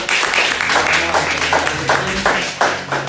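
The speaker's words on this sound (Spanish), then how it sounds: "Yo le pido que usted le brinde un fuerte aplauso al Señor y se ponga de pie." Church congregation standing and clapping loudly, with rhythmic, fairly even hand claps in close succession and some voices mixed in.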